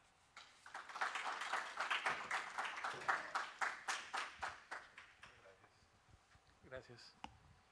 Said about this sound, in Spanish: nuevamente recibamos con un fuerte aplauso en el escenario a nuestro expositor, Carlos Mainar.